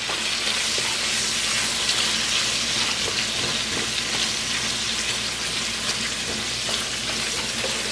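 Pork chop or bacon pieces frying in oil in a pot, giving a steady, dense sizzle with faint scraping as they are stirred; continuous and fairly close, with no voices.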